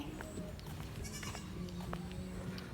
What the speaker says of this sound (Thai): ก็ยังตามเราไม่เลิกไอแพะเนี่ย